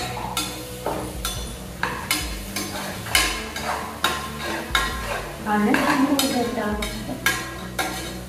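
Tomatoes sautéed in oil in a pan for a vegetable seeraga samba biryani, heard as repeated close scraping and clattering stirring strokes over a low sizzle.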